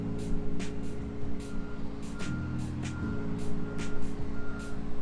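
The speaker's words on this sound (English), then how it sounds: "just back your fifth wheel skid plate into the kingpin, and it'll all lock together" A semi truck backs its fifth wheel skid plate toward a trailer kingpin, its reversing beeper sounding in a steady repeating pattern over a loud idling diesel rumble with brief air hisses.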